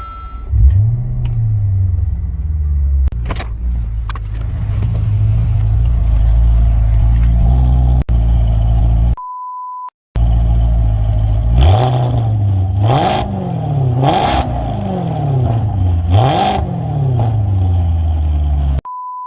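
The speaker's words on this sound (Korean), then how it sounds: "그럼 영상에 한번 배기음을 들려드려 볼게요." A Maserati GranTurismo V8 exhaust rumbles at idle, then revs repeatedly in sharp rising-and-falling bursts, loud and close, with a brief beep tone and a pause midway.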